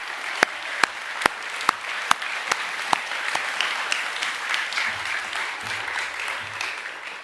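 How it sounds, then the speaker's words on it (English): A round of applause for student award winners at a junior school academic assembly, with a few sharp, close, steady claps standing out over the crowd's clapping and low murmurs near the end. "Can we give all the award winners one last round of applause,"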